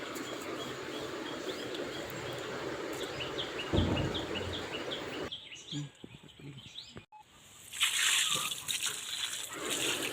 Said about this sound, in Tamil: மஞ்சள் போட்டதெல்லாம் தண்ணி ஊற்றி கழுவியாச்சு